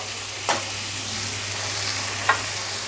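Ash gourd curry being stirred in a pan, with a steady low sizzle of frying throughout and two brief scraping clinks of the spoon against the pan, fairly quiet and without voices.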